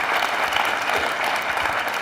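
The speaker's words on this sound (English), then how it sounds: "give him a round of applause" Audience at a political talk breaking into a steady, dense round of applause, many hands clapping at once with no pause.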